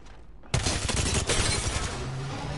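Rapid gunfire erupts in the Apex Legends video game after a moment of quiet, with a dense, loud, continuous burst of shots that stays sustained to the end.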